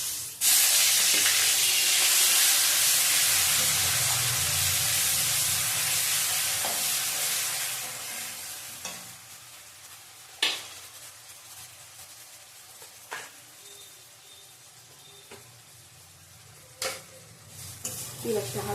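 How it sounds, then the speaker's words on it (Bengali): Chopped onion hits hot oil and sizzles loudly at first, the frying hiss gradually settling lower with a few stirring clinks and scrapes in the pan. "পেঁয়াজটা হালকা ভাজবো।"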